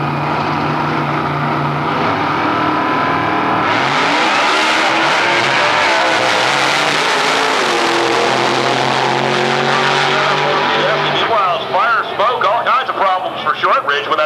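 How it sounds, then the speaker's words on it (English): Two drag racing cars launch at the strip, a supercharged entry beside a nitrous small block Camaro, roaring loudly with tire squeal and revving that fades into the distance, all under a continuous announcer's commentary. "Our next pair, supercharged machine of Miller up against the nitrous entry of Shortridge"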